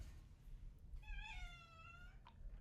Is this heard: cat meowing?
yes